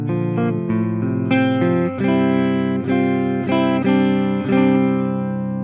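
Guitar notes and arpeggiated chords ring out from a PRS guitar played on its neck pickup through the clean channel of a Marshall Valvestate 8100 amp, a steady melodic passage of picked notes with no voice.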